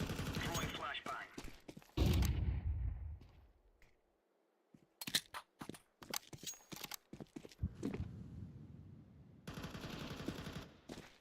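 A flashbang grenade goes off in a video game: a loud, booming burst that trails off into near silence. Bursts of rapid gunfire and scattered clatter follow, with another dense noisy stretch near the end.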